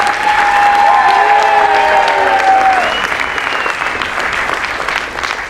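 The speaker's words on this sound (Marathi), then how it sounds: "त्याबद्दल एकदा जोरदार टाळ्या अपर्णासाठी" An audience at a Marathi stage play staged by Maharashtra Mandal Singapore claps loudly and densely, a close, continuous burst that carries a ringing musical tone at first and then tapers slightly as it goes on.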